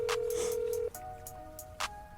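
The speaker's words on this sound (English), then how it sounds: "Okay, it's ringing." Through Kurdene S8 wireless earbuds, a phone call rings out: a steady tone followed by repeated electronic ringback pulses, faint and tinny, with no voices.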